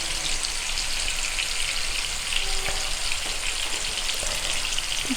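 Chicken frying in hot oil with a couple of sprigs of curry leaves over a medium flame gives a steady, even sizzle and crackle, close and continuous with no talking.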